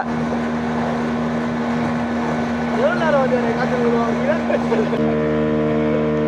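A tour boat's engine drones steadily and close during a ride on the water in Pondicherry, a constant low hum with a shift in tone near the end while a person talks over it.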